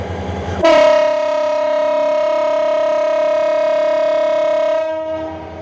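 A train passes a busy station in Dhaka, sounding a loud, sustained horn blast of about four seconds over a low rumble before the tone fades.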